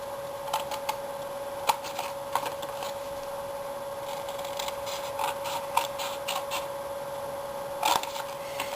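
Scissors cut flaps into a paper treat box, giving sparse snips and rustles at close range over a faint steady hum, with no talk.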